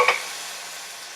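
A single quick scrape stirs tomato hamburger soup in a pot just after a 28-ounce can of tomatoes is added, followed by a quiet, steady simmering hiss.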